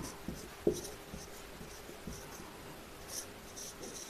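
A pen scratches across paper while a Pythagoras problem in trigonometry is worked out during a math lesson: faint, soft strokes and small taps at irregular intervals over a quiet room hiss.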